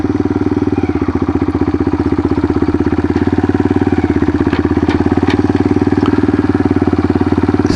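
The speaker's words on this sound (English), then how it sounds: "Sometimes it's a challenge just finding neutral in this bike" A motorcycle engine idles steadily and close up on Tatham Gap Road, a loud, even low chugging pulse with a slight mechanical clatter, running without a break and no one talking.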